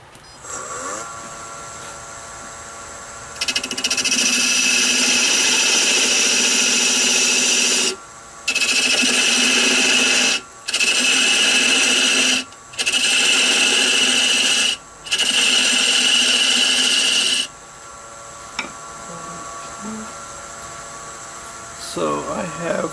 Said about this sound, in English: I'm going to cut a 1-inch spigot to fit my spigot chuck, and I'm going to turn it down to 35 millimeters